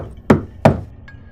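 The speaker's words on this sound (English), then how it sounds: "we heard the banging again" Two loud, sharp bangs on an apartment door, about a third of a second apart, close by and heard alone in an otherwise quiet room, followed by a faint brief tap.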